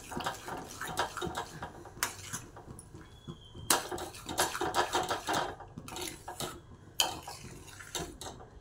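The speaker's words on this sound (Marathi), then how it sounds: "हे आता आपण चांगलं मिक्स करून घेऊ." A spoon stirs raw mango jam with cardamom in a metal pot, giving irregular clinks and scrapes against the sides, close and fairly loud, with no talking.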